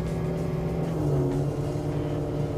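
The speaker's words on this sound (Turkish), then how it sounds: "ses çok güzel Tabii, ya. ses güzel. El yapımı titanyum egzoz var." An old Land Rover Defender's engine idles and revs through a handmade titanium exhaust with a deep, throaty note, close and steady, with slight pitch rises as the throttle is blipped.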